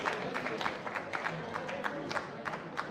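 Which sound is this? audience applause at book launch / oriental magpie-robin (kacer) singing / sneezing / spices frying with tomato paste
audience applause at book launch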